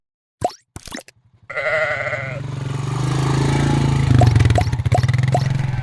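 Loud, drawn-out sheep bleats close up, one overlapping another, after a few sharp knocks at the start.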